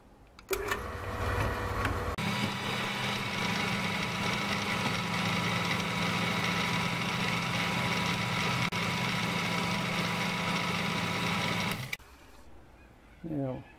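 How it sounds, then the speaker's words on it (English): Metal is drilled while making a Gingery four-jaw lathe chuck, giving a steady machine whine and hum that starts abruptly, runs evenly for about ten seconds, then cuts off, close and loud. "And we'll drill that."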